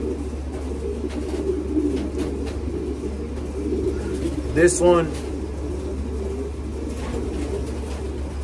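Racing pigeons in a loft coo softly under a steady low hum, with one short, clearer burst of cooing partway through. A voice is heard briefly.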